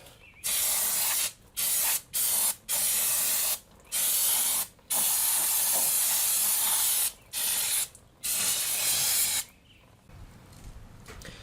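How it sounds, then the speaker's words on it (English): Brake cleaner sprayed onto a 4Runner rear axle, a close, loud aerosol hiss in repeated bursts of varying length separated by short pauses, with no talking. "Now, just to clean it up a little bit, some brake cleaner."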